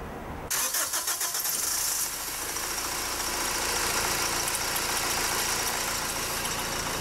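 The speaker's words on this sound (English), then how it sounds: "let's start the vehicle and see what happens" A 2006 Honda FR-V engine with a poor-starting fault cranks for a couple of seconds with a rapid rhythmic chugging, then catches and settles into a steady, loud running idle.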